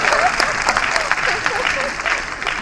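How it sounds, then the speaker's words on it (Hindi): An audience at a lecture on Shakti in folk tradition claps together in dense, sustained applause, loud and close, while a voice carries on over it. "ताली बजाओ भाई।"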